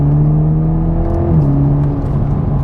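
A 2021 Toyota Supra 2.0T four-cylinder engine revs loudly and steadily, its droning tone stepping down partway through as it downshifts, with continuous exhaust rumble throughout.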